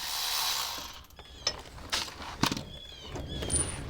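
A ratchet wrench works loose a 13 mm bolt on a Jeep JK Rubicon oil pan skid plate, giving quick bursts of clicking pawl and metallic clatter up close, with brief pauses between strokes.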